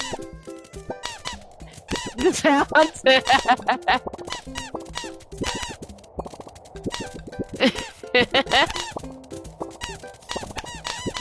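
Penguins squeak in rapid, overlapping bursts in the video game Dream Daddy, loud and busy throughout with brief pauses.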